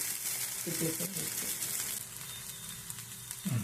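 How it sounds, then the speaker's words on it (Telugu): Ragi sankati pieces roasting in oil on a low flame, making a soft, steady sizzle and crackle, with a voice briefly speaking over it near the start and end. "కొంచెం సిమ్లో పెట్టుకొని కాల్చుకోవాలి"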